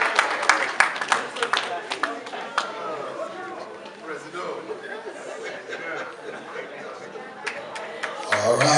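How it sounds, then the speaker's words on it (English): An audience at a Sierra Leone independence celebration claps and chuckles in bursts of sharp applause, mixed with loud chatter and voices talking throughout. "give another round of applause"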